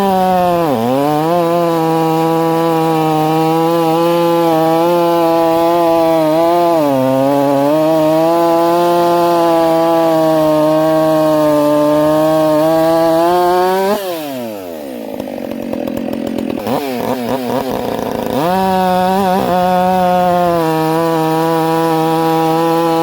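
Hexa chainsaw cutting wood, a loud steady buzzing engine drone with a strong harmonic whine that sags slightly under load, then a brief drop and recovery near the end, with no voices.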